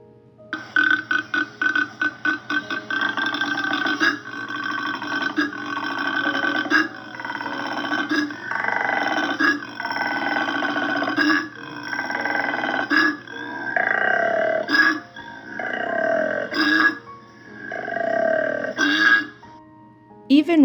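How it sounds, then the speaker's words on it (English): A male koala gives a deep, rasping bellow, a series of rhythmic snoring inhalations and belching, growling exhalations that repeat loudly and close for about twenty seconds. "If a male koala does not like another koala being near him or wants to communicate with a female, he'll release a sound"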